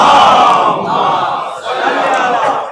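A large gathering of worshippers at a religious celebration recites durood together, a loud, close mass of chanting voices rising and falling in unison.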